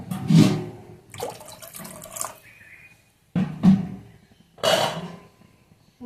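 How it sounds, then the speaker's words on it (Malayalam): Water poured in bursts into a pot of bottle gourd kofta curry masala, several separate splashing pours with short pauses between, close and moderately loud. "അപ്പോൾ വെള്ളം നിറച്ച് ഒഴിച്ച് കൊടുക്കുക."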